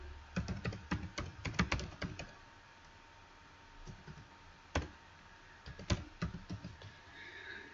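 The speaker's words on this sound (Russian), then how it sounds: "вводим номер карты" Card number typed on a computer keyboard in quick bursts of close, crisp key clicks, pausing midway and then resuming with scattered taps.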